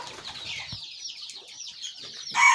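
A chicken clucks close by on a farm, a quick run of high, thin calls over about two seconds ending in a louder squawk, alone without talking.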